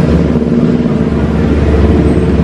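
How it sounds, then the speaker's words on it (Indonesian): Loud motorbikes pass on the Pantura road on a Saturday night, a heavy close engine rumble that stays steady throughout. "Gede banget suara motornya."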